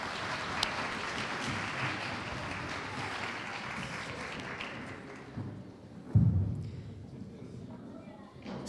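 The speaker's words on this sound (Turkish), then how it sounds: "alkış daha lütfen" An audience applauds at a children's poetry event, a broad wash of clapping that thins out after a few seconds, followed by a thump and quieter room noise.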